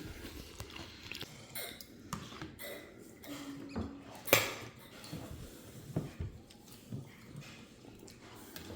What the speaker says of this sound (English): I'm eating it with some Fritos and with the tostadas because these are spicy